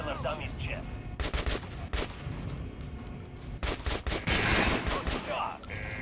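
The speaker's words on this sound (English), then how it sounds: "Try shooting the center of the regular dummy's chest." Rapid gunfire at a training dummy in the Metro: Last Light video game, with clustered bursts of loud shots and brief pauses, and a voice briefly audible between volleys.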